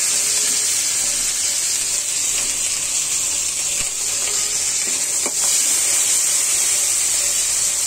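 Chopped onion and garlic sizzle loudly in hot oil in a pan, a steady dense hiss throughout with a few faint clicks of a utensil and no voices.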